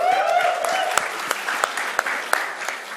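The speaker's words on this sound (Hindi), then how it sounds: "पर मनोज के लिए तालियां तो बनती है यार" Applause from an audience at a Sonu Sood app launch event, a crowd clapping steadily for about three seconds with a few sharper claps standing out, while faint voices carry underneath.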